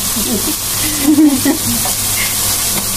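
Spice paste of turmeric and red chili powder frying in a pan for a hilsa and eggplant curry, a steady close sizzle with faint scraping in the middle, no voices over it.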